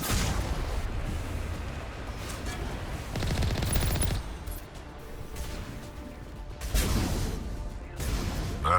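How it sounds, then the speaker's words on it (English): A large artillery gun in the Mass Effect video game fires amid heavy battle noise, with booming bursts around three and seven seconds over a constant rumbling din. "There's the artillery, Shepard."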